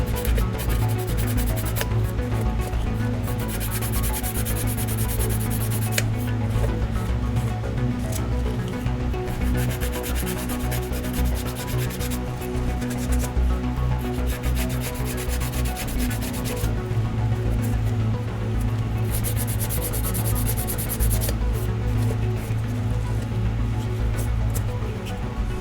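Continuous, steady rasping of sandpaper rubbed back and forth on a 3D-printed part, close and loud, with brief pauses between strokes.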